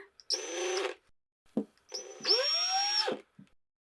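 A power drill whirs in two short bursts while winding embroidery thread onto a bobbin, its pitch rising as it spins up, with brief clicks and clatter between runs.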